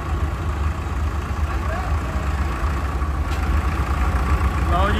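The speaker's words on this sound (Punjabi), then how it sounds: "ਲਓ ਜੀ ਟਰੈਕਟਰ ਚੱਲੇ, ਭਰਾ ਲੈ ਚੱਲੇ ਆਪਦੇ ਘਰਾਂ ਨੂੰ।" Several Digitrac PP 46i tractors idle and rumble together outdoors, a steady low engine drone with busy crowd noise and voices talking over it throughout.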